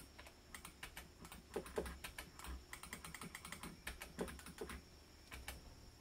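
Keys tapped on an arcade cabinet's built-in keyboard while a game name is entered into a menu search, a steady run of light, fairly close clicks with small pauses and no talking.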